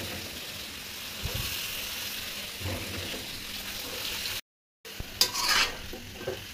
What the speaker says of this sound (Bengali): বরবটিগুলো এখন ভালো করে কষিয়ে নিব।